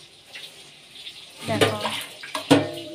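Tap water running in a home kitchen, a soft hiss that swells into louder splashing bursts near the end, close by and heard alone.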